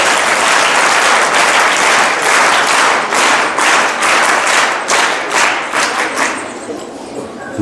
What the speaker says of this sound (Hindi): एक बार वीर ताली से आप सभी स्वागत करें।